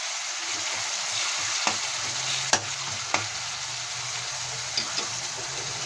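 Tomatoes fry and get stirred in a pan for vegetable upma: an even, close sizzle with a few sharp clicks and scrapes of the spoon against the pan, no talking.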